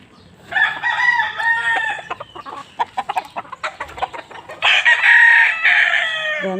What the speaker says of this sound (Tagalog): dami pang mga manok dito.